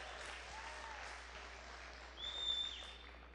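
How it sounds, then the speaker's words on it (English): Faint round of applause from an audience at a town's 50th anniversary celebration in Yountville, with soft continuous clapping heard from a distance and a brief whistle-like tone midway. "So one more round of applause for everybody here tonight."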